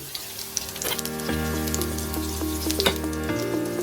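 Oil crackles and sizzles steadily in a pan as spices, green chili, garlic and ginger fry for dal, with occasional spatters and a scrape of stirring close by.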